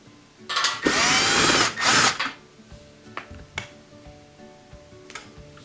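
Power driver spinning out Torx 15 screws from a Bosch dishwasher, two loud whirring bursts close by, followed by faint clicks and taps of handling parts.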